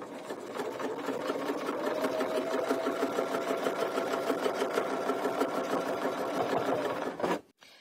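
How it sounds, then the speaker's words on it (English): A domestic sewing machine stitching around the edge of a quilting ruler, a close, steady rapid whirring chatter running continuously for about seven seconds before stopping abruptly, with no talking. "stitch around the edge of the ruler to the first seam line"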